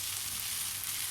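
Cold cooked rice sizzles in a hot pan while being fried for chicken fried rice, a steady, bright crackle that runs without pause from start to end, close and moderately loud with no talking.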